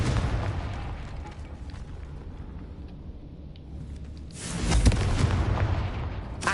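A booming explosion from the Confringo blasting spell in the Hogwarts Legacy game: a low rumbling blast swells up midway and then fades slowly, heard against a continuous loud ambient roar.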